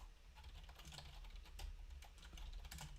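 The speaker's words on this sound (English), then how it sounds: "you most likely hate when I'm typing it because I type like a freaking dumbass" A loud computer keyboard is typed on in fast, uneven bursts of clicking keystrokes, close but recorded at low level, with no speech.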